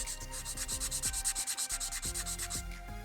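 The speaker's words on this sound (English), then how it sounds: "you may be better off getting it to its length by simply sanding it" A small wooden board for a model house truss is sanded by hand in quick, even back-and-forth strokes, a close, soft rhythmic scratching repeated about a dozen times with no talking.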